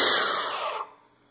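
A Phantom Full Throttle supercharger's compressor wheel gives a loud, airy high-pitched whine that fades and winds down within about a second, leaving near silence.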